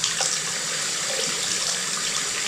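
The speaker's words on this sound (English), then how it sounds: "water goes all the way through without stopping here." Water rushes steadily down a newly sealed sink drain, a loud, continuous close-up gush with no pauses.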